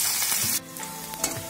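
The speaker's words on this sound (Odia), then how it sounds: "ତେଲ ଆମର ଗରମ ହୋଇସାରିଛି, ସେଥିରେ ଆମେ ଖଣ୍ଡ ଖଣ୍ଡ ହୋଇ କଟା ହୋଇଥିବା ପିଆଜକୁ ମଧ୍ୟ ପକାଇବା" Chopped onions frying in hot oil, a bright close sizzle that drops sharply partway through, then continues quieter with a few light stirring knocks.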